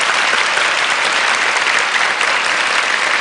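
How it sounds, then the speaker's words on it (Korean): A lecture-hall audience claps steadily and loudly for a few seconds, giving dense, even applause that welcomes two daughters, with no voices over it. "우리 두 따님 박수로 좀 환영을 해주세요"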